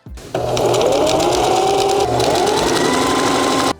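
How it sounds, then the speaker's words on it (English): A sewing machine runs loud and continuous for over three seconds, stitching a half-inch seam around pillow fabric for patio upholstery, close up and with no talking. "I am just going to sew 1/2 inch in all the way around"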